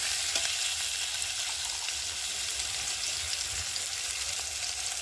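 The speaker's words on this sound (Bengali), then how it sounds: "পেঁয়াজটা একটু ভালো করে ভেজে নেব" Continuous sizzling of onions frying in a pan, steady and close, with no talking.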